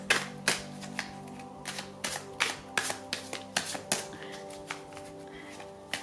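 A deck of tarot cards is shuffled by hand close up, producing a run of crisp, irregular snaps and riffling clicks with no talking.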